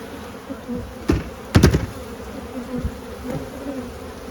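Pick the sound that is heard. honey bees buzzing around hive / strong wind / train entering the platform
honey bees buzzing around hive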